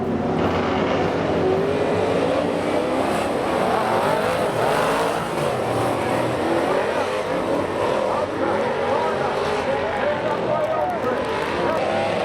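Speedway race cars roar into a corner off the concrete, a dense, continuous engine drone under steady, excited commentary.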